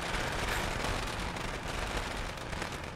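Fireworks in the video game Dead Rising 2 crackle and pop in a dense, continuous barrage of bursts, loud and unbroken for the whole stretch with no voices on top.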